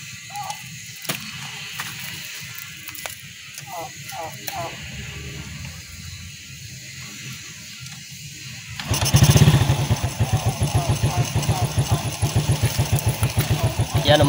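Overhauled Honda XRM 110 motorcycle engine starting after quiet shuffling and a few clicks, then settling into a close, steady, rhythmic idle that keeps running to the end, with a voice talking.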